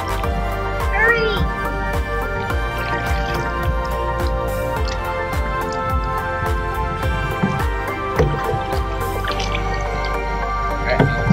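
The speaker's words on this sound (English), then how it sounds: "Just dump all the water out" Water sloshes and drips steadily as it is dumped out of a canoe at a waterfront, with wet splashes and trickles running throughout and voices, including a child's, talking over it.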